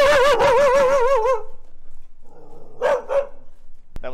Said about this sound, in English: dog barking, not happy dog